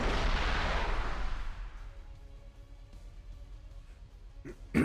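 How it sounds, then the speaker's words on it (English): Maverick missiles launch in a combat video game: a loud rushing blast fades over about two seconds into quiet, and a brief sharp pop follows at the end. "I'll just turn in and fire Mavericks"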